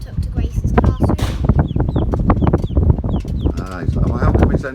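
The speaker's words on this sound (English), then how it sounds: "He's a duck that's an orphan that Mrs. Dove, our PE teacher, found at sch" An orphaned duck calls repeatedly with short, close chirping cries that are mixed in with people talking.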